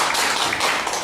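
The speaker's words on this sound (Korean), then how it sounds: "이럴 때는 박수 한번 주셔야 돼요" Brief burst of audience clapping in a university lecture hall, a dense wash of many hands applauding at once for about a second, no voices over it.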